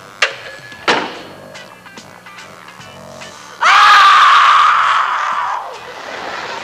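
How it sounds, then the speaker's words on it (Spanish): A woman screams loudly and shrilly for about two seconds in a domestic scene from a 1975 Mexican comedy film, after a couple of sharp thuds, with faint voices before. "Ay, pero ¿por qué gritas así"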